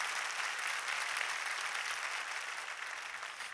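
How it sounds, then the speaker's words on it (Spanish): A church congregation applauding during a sermon, a steady, even roar of many hands clapping throughout, moderately distant and without talk. "Dale fuerte ese aplauso a nuestro Señor Jesucristo."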